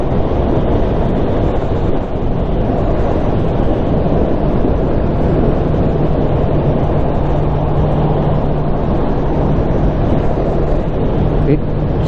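Honda CB650R motorcycle ridden at speed, a steady loud drone of engine and wind roaring throughout with a brief pitch shift near the end as a gear is sought, close and continuous.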